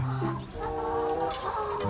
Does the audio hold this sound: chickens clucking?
yes